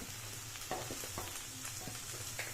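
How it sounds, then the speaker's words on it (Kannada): Palak spinach leaves tossed into a pan of frying coriander and mint for palak vegetable pulao, a soft steady sizzle with light stirring taps, close and fairly quiet. "ಈಗ ನಾನು ಒಂದು ಕಪ್ ಆಗೋಷ್ಟು ಪಾಲಕ್ ಸೊಪ್ಪು ಇಟ್ಕೊಂಡಿದ್ದೀನಿ ಅದನ್ನ ಹಾಕೋತಾ ಇದ್ದೀನಿ"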